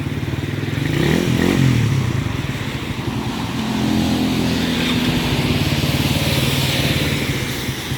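A Suzuki Raider 150 motorcycle engine, lacking power, runs steadily up close, rumbling and rattling loudly throughout with slight swells in revs, no voices heard.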